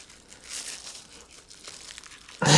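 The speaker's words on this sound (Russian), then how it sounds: "Это вообще интересно, как себя пакет поведет в роли подмотки для резьбы" A plastic bag crinkles softly as it is wound onto a pipe thread as sealing tape, a faint rustling that swells into a louder crackle at the end.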